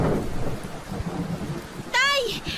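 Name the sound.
heavy typhoon rain and thunder, sound effect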